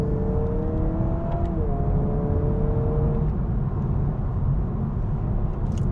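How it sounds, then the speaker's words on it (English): A 2026 Honda Prelude engine runs loud and close while driving, with tonal rises as rev matching blips the revs and a steady drone afterward. "So every dynamic mode that you go into, the car will rev match for you, which is a lot of fun."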